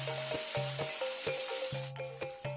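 Sardine sauce sizzles in a hot pan of fried potatoes being cooked for sarden kentang balado, a quiet continuous frying hiss with regular repeating pulses and no voices.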